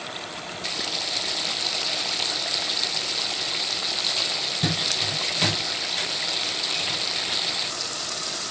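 Chicken for Shinwari karahi frying in oil, a steady close hissing sizzle that runs evenly throughout, with a couple of brief clinks partway through and no voices.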